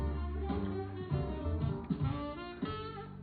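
A clean, unprocessed saxophone plays a short legato phrase of several sustained notes with smooth pitch changes, steady and moderately loud, alone without any voices.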